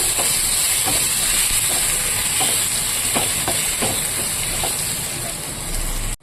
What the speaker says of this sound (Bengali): এবার শুধু আদ্রকটা দেওয়া তো আদ্রকটা দিয়ে একটু লাল লাল করে ভেজে নেবো